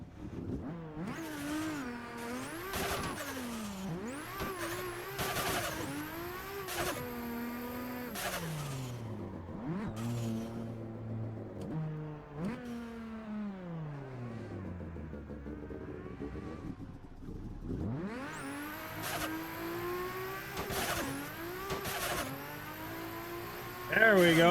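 A race car engine in a racing game running on race fuel revs hard through the gears, climbing and dropping in pitch with repeated shifts and brief tire squeal, loud and close, with someone talking over it.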